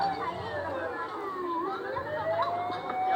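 A fire truck siren wails as the truck arrives at a house fire, the tone sweeping up and down, mid-distance and steady. A crowd chatters and murmurs underneath.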